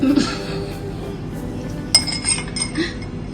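A spoon stirs avocado chia pudding in a glass, giving a few light clinks and taps against the glass over a faint background hum.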